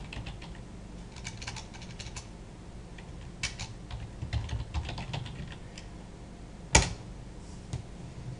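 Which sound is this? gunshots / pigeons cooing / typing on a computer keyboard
typing on a computer keyboard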